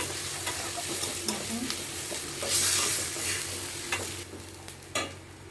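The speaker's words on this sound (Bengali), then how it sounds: "এরপরে আমরা সব মশলা দিয়ে দেবো। ভালো করে লাল করে দিয়ে দেবো।" Ginger, garlic and ground spices (chili, turmeric and cumin powder) fry for a chicken dish while being stirred. A continuous crackling sizzle carries repeated spoon scrapes, with a louder hissing surge midway and no talking.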